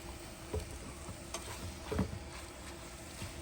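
Eggs are given a last stir in a pan on a stove, a faint low sizzle with a couple of soft scraping taps of the utensil.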